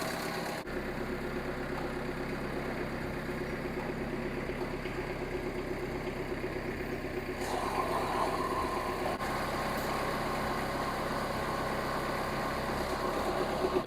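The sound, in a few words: mini skid steer engine running while moving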